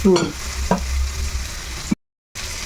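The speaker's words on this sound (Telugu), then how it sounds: "ఇప్పుడు చామదుంపల ముక్కల్ని వేసుకొని చక్కగా కలుపుకోవాలి" Taro (colocasia) pieces sizzle steadily as they fry in a pan while being stirred, with a few scraping strokes near the start and a brief silent gap before the frying resumes.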